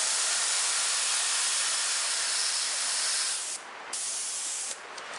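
An airbrush sprays black paint in a loud, steady close hiss. The spray briefly cuts out and restarts twice near the end.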